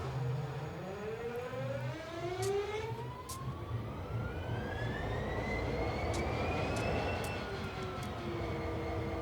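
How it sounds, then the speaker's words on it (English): A CSX heavy-haul diesel locomotive in Train Sim World cranks and starts, its low engine rumble steady while rising whine-like tones sweep upward and fade, with a few sharp clicks on top, loud and close throughout. "And the engine's running."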